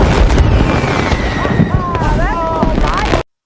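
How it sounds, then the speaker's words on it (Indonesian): Dense crackling booms and bursts fill the air continuously, with whistling rising tones cutting through, like a busy fireworks display heard amid a noisy crowd, in a film. "kemudian disuguhi hiburan oleh Richard berupa pesta kembang api yang menakjubkan."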